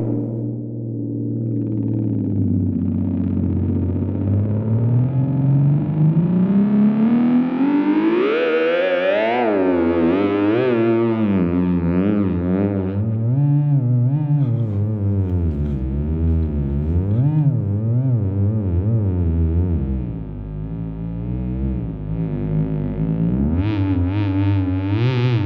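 Feedback from a Fjord Fuzz Loke guitar fuzz pedal sweeps, groans and wobbles for a long stretch, with loud, continuous pitch glides that mimic eerie whale calls.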